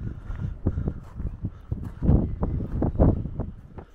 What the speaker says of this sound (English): Still windy.